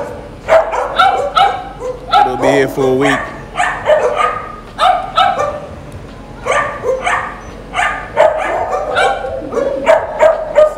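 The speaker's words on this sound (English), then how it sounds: "I don't know if you can see our dogs, but this is the kennels." Rottweiler dogs barking at kennels, a loud run of repeated barks and yips with some whimpering, close and frequent throughout, while a person talks at one point.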